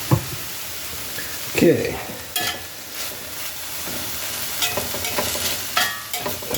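Meat for nacho fries sizzles in a pan, a steady frying hiss punctuated by stirring scrapes and clatters, with a brief spoken word.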